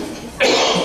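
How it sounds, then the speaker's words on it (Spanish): A single sharp cough bursts out after a quiet moment and trails off, close and loud, from a presenter during a Spanish-language research methodology workshop. "que me entra la tos"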